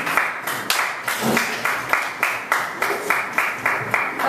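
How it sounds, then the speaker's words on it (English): A class claps together in a rhythmic, evenly spaced beat, roughly two or three claps per second, close and moderately loud, with no talk over it. "let's do a round of applause"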